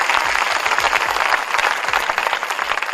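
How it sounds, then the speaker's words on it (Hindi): Vigorous, sustained clapping fills a pandal at a Hindi kavi sammelan, the dense applause of a large audience holding steady for the whole stretch with almost no talk. "मैं चाहता हूं इस कवि सम्मेलन के लिए एक बार आप जोरदार तालियां बजाइए"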